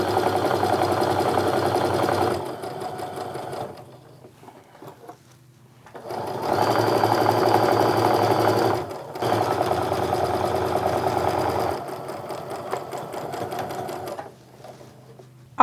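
Sewing machine stitching a quilt block seam for a Supernova quilt block, running in steady mechanical bursts of a few seconds each with short pauses between, close and loud, no talk.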